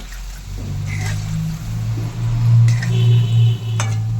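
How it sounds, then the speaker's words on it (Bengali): Palm fruit fritters frying in hot oil in a home kitchen give a close, bubbling sizzle with faint stirring and utensil clinks, swelling in loudness partway through, with no voices. "আঁচ কমিয়ে দিলাম, একটু ভালো করে ভাজাটা হোক।"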